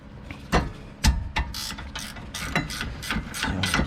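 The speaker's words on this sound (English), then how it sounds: "You need a wrench for the bottom one as well because there's no room for a socket." A wrench ratchets on a large 19mm rear brake caliper bracket bolt of an Infiniti JX35, a series of sharp, close metallic clicks coming in quick irregular bursts, with no talking.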